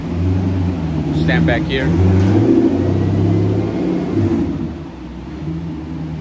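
An LS 6.0 V8 swapped into a BMW E30 drones loudly on a dyno, its engine tone rising and holding steady as a person briefly speaks over it.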